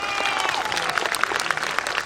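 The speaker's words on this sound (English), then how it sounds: "So please clap for yourselves." An audience at a school's annual cultural presentation applauds warmly, a dense steady wash of many hands with a few sharper nearby claps and some faint voices and crowd noise underneath.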